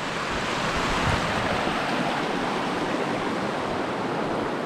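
Creek water rushes over rocks and boulders in a steady, dense wash of noise, close and constant, with no voices.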